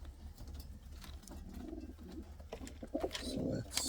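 Indian fantail pigeons cooing nearby in a breeding loft, with soft low coos growing fuller toward the end and brief rustling mixed in.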